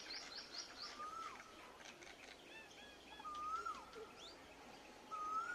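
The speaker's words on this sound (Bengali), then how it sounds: "দেখছো কি সুন্দর কোকিল ডাকছে" A cuckoo calls in an open palash flower grove near Kolkata, with several clear whistled phrases rising and falling at moderate distance, accompanied by faint chirps from other birds over quiet outdoor ambience.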